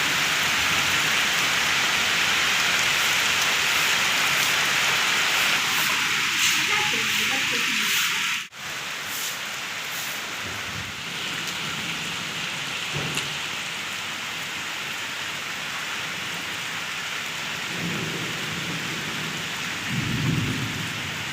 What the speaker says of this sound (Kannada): ಸೊ ಈ ವರ್ಷದ ಮೊದಲನೇ ಫಸ್ಟ್ ಮಳೆ ಬರ್ತಿದೆ ನೋಡಿ, ಗಾಳಿ ಮಳೆ.